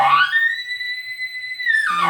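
A person imitates a bull elk's bugle by blowing through a bugle tube: a short grunting onset rises into a long, clear, whistling tone lasting over a second, then drops back into a rough grunt, close and loud.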